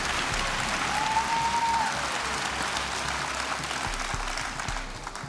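A studio audience at a German television quiz show breaks into applause, a dense, steady patter of clapping that holds for several seconds and tapers slightly at the end.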